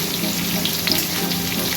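Onions and red chilli frying in oil in a pan, a loud, continuous close hiss and crackle with no pauses.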